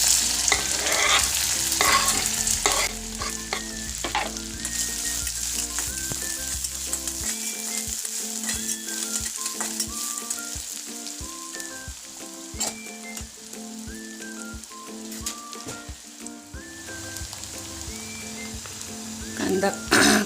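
Onion and green chilli sautéing in a pan, a dense continuous sizzle with steady stirring and scraping throughout, under a background of soft musical tones.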